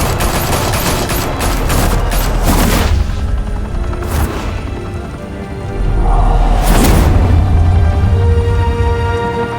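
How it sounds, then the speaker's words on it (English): Gunfire in a Batman video game: dense, rapid bursts of automatic fire with sharp cracks and clattering impacts, loud and close, shifting in intensity over a rumbling background, no voices. "Open fire!"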